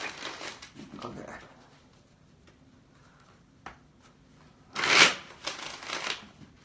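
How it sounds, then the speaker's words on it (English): A deck of tarot cards is shuffled near at hand, soft riffling flutters early on, then a louder crisp riffle and bridge with quick ticking card snaps. "Love the way this deck shuffles."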